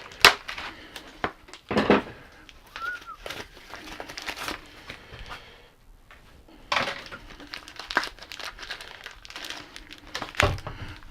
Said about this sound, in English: What I want to do is get all the packaging off of these.